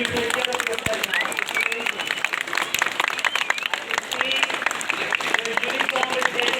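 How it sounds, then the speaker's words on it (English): Students applaud at a school morning assembly, giving a busy, ragged patter of many hands clapping throughout, with voices and crowd murmur mixed in. "So big round of applause for everybody of you."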